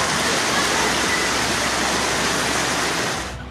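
Floodwater rushing through Karachi streets after torrential monsoon rain, a loud, steady broadband roar of surging water that continues unbroken and fades slightly at the end.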